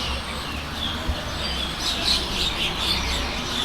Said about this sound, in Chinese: 哇，好多野生的燕子，一到晚上就在天上到處飛。